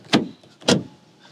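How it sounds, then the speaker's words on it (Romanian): Two solid thuds of BMW car doors being shut, one front and one rear, close up and a half second apart, each a dull thump with a short tail, in an otherwise quiet cabin. "Ușa față cu ușa în spate se aude diferit."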